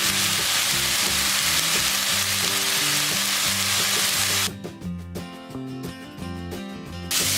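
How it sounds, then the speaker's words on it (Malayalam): Onion sautéed with chili powder, turmeric, coconut and tomato sizzles steadily in a pan over high flame for a brinjal curry, a dense continuous frying hiss that later gives way to music, with no talking. "സവോള ഇട്ട് വഴറ്റിയ കൂട്ടിലേക്കാണ് മുളക് പൊടി, മഞ്ഞൾപ്പൊടി, തേങ്ങയും തക്കാളിയും കഴിച്ച് നന്നായിട്ട് ഒരു 5 മിനിറ്റ് ഹൈ ഫ്ലെയിമിൽ ഞാൻ നന്നായിട്ട് വറുത്തെടുത്ത് തരും"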